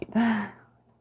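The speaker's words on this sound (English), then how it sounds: "Still those big, deep belly breaths here." A single deep belly breath during a slow beginner yoga flow, close and soft: a quick intake, then a long audible exhale that fades out within about a second.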